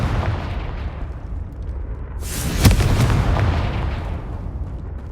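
A Confringo fire spell explodes in Hogwarts Legacy, a single loud burst with a roaring whoosh that swells and then slowly fades over a low rumbling background.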